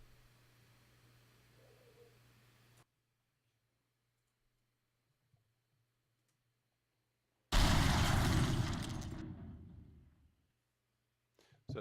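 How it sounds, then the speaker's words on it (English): A loud, strong missile explosion from a patrol mech in a video game bursts in after several seconds of near silence, a broad roaring blast that slowly decays over about three seconds. "Patrol mech missile explosion."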